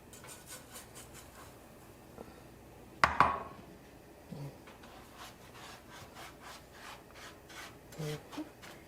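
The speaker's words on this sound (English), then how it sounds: "And as it heats up, you just add the panko." Panko breadcrumbs are added to a heating pan with oil and spread around, giving soft scraping, rubbing and gritty rustling, with a sharp clatter early on and quieter scrapes afterward.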